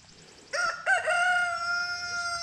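A young backyard rooster crows once close by, a loud drawn-out call with a rising start and long held note, over faint background clucking.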